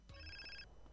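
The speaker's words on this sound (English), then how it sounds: "I knew that was going to be a phone call." A phone rings in GTA San Andreas, a single short electronic ring tone that is clear but fairly quiet, heard alone with no talking.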